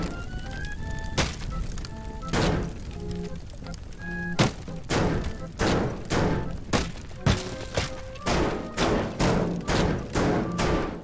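A sledgehammer smashing structures at a theme park in the video game Teardown, a string of heavy thuds and crunching crashes, at first spaced out and then coming faster and more regularly, loud and close.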